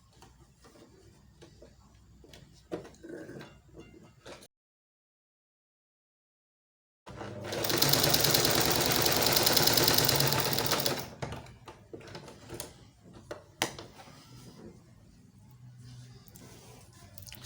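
A sewing machine stitches corset cups together in one loud continuous burst of about three seconds, preceded by quiet handling noises and a brief silence, with faint rustling of fabric afterward.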